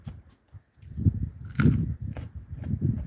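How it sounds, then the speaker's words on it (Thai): Chewing and eating papaya salad with rice noodles and stewed pork intestine, close, wet crunchy bites and mastication in irregular bursts, alone without talk. "ยายเล็กกินไวมาก จริง ๆ อ่ะ"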